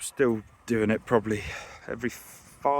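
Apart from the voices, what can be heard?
No distinct noise like a dog, phone or traffic.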